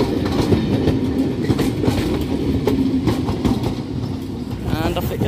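A railtour hauled by a pair of British Rail Class 67 diesel locomotives of Mark 1 and Mark 2 coaches rolls through a station at Malton, with a steady rumble and rhythmic clickety-clack of wheels.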